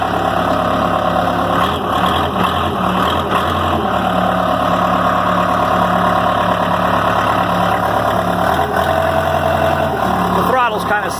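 The diesel engine of a 1979 Case 580C tractor with a sticking throttle runs steadily nearby, a loud continuous idle with a brief shift in pitch, while a person talks over it.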